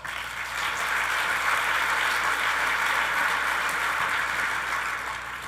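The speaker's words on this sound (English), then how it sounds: "let's give a big round of applause." An audience at a city's State of the City address applauds, a dense, sustained wash of clapping that holds steady and loud before tapering slightly at the end.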